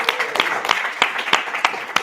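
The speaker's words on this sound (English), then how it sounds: "So once again, give a round of applause." A small class group claps for a student's outstanding startup work, sparse and uneven individual claps in an irregular rhythm, fairly close and moderately loud.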